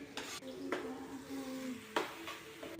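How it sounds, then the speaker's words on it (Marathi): Onion and tomato sautéing in a pan, a soft steady sizzle with a few sharp clinks and scrapes of a spoon stirring against the metal, close and moderately loud. "झाल्यानंतर छान हा कांदा परतून घ्यायचा आहे आणि मग टॅमॅटो टाकून ते पुन्हा थोडंसं शिजवून घ्यायचं आहे"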